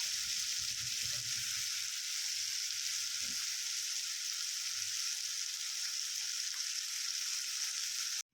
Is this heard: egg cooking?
yes